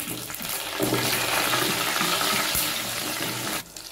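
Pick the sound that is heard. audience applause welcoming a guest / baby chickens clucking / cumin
cumin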